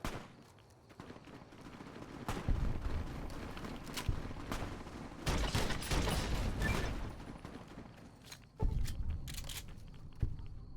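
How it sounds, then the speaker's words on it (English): Bursts of gunfire in the video game Fallout: New Vegas crackle in several loud volleys, with sharp shots overlapping and trailing off between clusters. "I hear all their comically synchronized gunfire."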